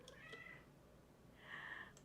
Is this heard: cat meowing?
yes